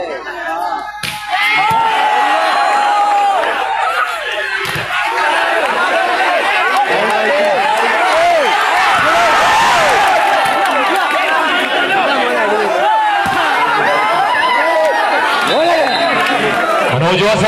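Loud crowd noise at a local volleyball match between Kolayad and Yuvadhara Pattannur, with dense cheering and chatter sustained throughout and scattered claps and smacks within the roar.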